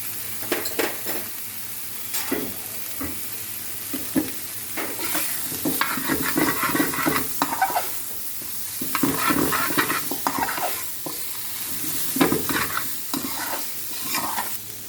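Beetroot, carrot, green chilli and beans are stir-fried in a pan, sizzling steadily while a spatula scrapes and stirs in repeated bursts, close and clear with no talk.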